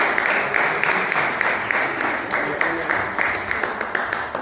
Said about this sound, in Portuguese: Os irmãos podem se assentar, louvando a Deus com as palmas.